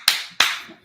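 Two sharp, close hand claps spaced about a third of a second apart, each a crisp isolated smack with a short decay and no other sound between them.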